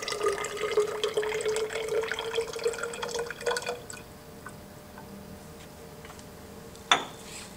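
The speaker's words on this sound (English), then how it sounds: "I'm going to pour 50 milliliters of hydrochloric acid" Hydrochloric acid is poured from a container into a calorimeter, a faint close trickle of liquid that runs for a few seconds and tapers off, followed by quiet and a single sharp clink of glassware.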